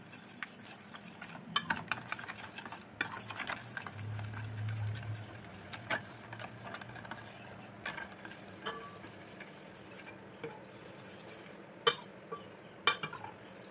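Crab-brain batter for fritters, seasoned with chopped chilli, is stirred in a bowl, giving soft, irregular scraping and clinking close by, with a few sharper taps near the end and no talking.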